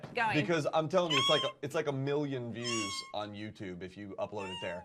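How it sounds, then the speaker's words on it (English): A pet cat meows repeatedly in drawn-out, rising and falling cries at close range, overlapping with someone talking. "that was my cat"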